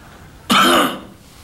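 A single short, loud throat-clearing cough from one person, abrupt and close, lasting about half a second before fading back to quiet room tone.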